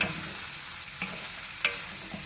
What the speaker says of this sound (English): these I'm going to very quickly stir through